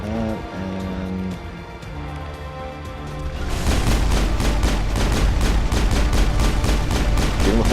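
A dense run of rapid gunfire from the Mass Effect video game comes in loud after a few seconds of tonal game background. The shots form a steady rattling stream of closely spaced bursts that carries to the end.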